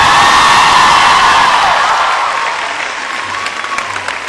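An audience at Kinnaird College in Pakistan breaks into loud, sustained clapping with some cheering, fading gradually toward the end.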